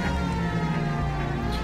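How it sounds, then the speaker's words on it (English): A police car siren wails steadily in the 1940s Los Angeles crime game L.A. Noire, sustained and fairly loud over a low engine rumble, with no pause across the short stretch. "it's so much easier to drive when you just have your sirens on"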